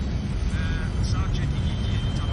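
An airplane in flight climbs during turbulence in the film Flight, a steady loud engine roar filling the whole stretch.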